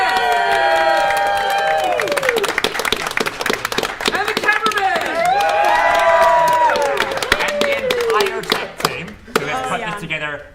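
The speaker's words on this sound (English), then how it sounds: "Let's give another huge cheer for both our players and for everyone who's been organizing this stream behind the scenes" A convention crowd at ClocktowerCon Australia cheers and applauds loudly and continuously, with whoops, shouting voices and dense clapping that thins out near the end.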